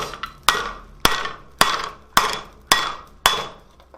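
Seven sharp metallic hammer strikes on hot steel on an anvil while forging a coal shovel, at a steady rhythm, each ringing briefly before decaying, close and loud.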